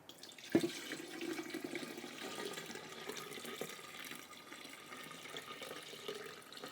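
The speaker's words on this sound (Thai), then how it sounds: "ต่อไปก็จะเป็นน้ำองุ่นที่เราทำไว้นะครับ เทใส่ลงไปได้เลยครับ" Homemade grape juice poured into a jar already holding jelly, a steady liquid pour with a splashy start that runs continuously and fairly quietly close by, with no talking.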